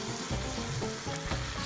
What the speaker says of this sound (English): As the meat browns, add 1 clove of garlic.